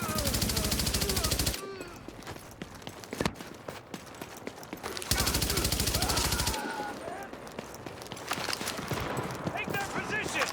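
Video game gunfire in rapid automatic bursts, two long sustained volleys with scattered single shots and footsteps between, loud and close, with muffled voices calling out underneath.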